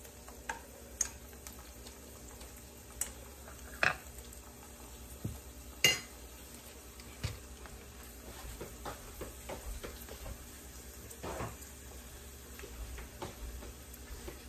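Papad frying in hot oil in a home kitchen, a soft continuous sizzle with occasional sharp ticks and clinks of a utensil against the pan, steady and close with no talking.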